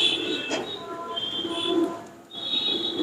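A Rampuri pigeon coos in soft, throaty, repeated calls close by, with a short pause before the final call and faint background noise.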